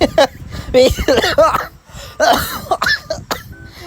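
A person coughs and clears their throat through excited, laughing Filipino talk, with sharp cough bursts breaking up the voice.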